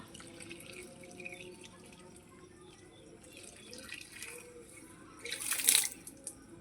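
Water is poured into a potted palm plant after repotting: a faint trickle and drip at first, rising to a brief, louder splash of water filling the pot near the end. No voices.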